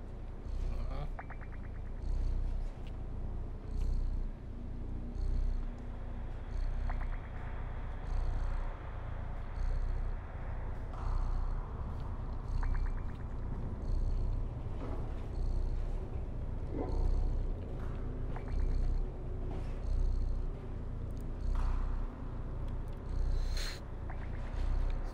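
A cat purrs steadily in a cat video game, a soft continuous rumble running beneath faint background music and game sounds for the whole stretch, with no one talking.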